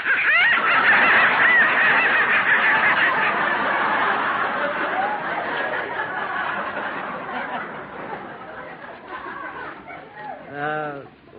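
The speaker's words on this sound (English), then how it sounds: "that noise came from some live ducks I got in the basement" Live ducks in a basement quack and honk loudly and continuously in a busy cluster, the calling fading somewhat toward the end.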